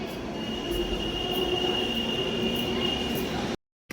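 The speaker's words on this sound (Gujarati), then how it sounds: "આ ટ્રેનમાં આવ્યા" Delhi Metro train ride heard from inside the carriage: a steady, loud rumble with a sustained high whine, running continuously before cutting to silence near the end.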